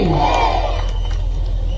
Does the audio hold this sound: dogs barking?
no